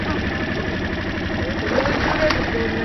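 An engine runs steadily at a constant mid-pitched drone for the whole stretch, close and fairly loud, with no clear speech over it.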